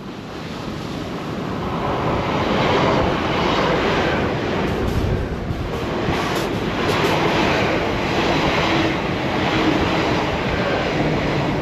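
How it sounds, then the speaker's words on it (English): A train running along the storm-lashed coastal line at Dawlish, its rumble swelling over a constant roar of surf and wind, fairly loud and steady for several seconds, no talking. "there is indeed a train coming"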